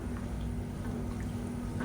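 Water is poured steadily into a pot of lentil-ball curry (paruppu urundai kuzhambu), making a continuous close splashing rush that lasts the whole moment, with no voices.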